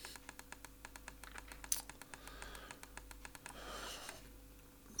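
Rapid, irregular clicks of a computer keyboard and mouse tapping close by, light and dry, over a quiet room hum.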